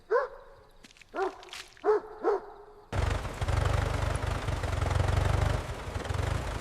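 A huge dog barks four times in quick, loud succession, followed by a steady, loud rumbling noise that carries on without a break.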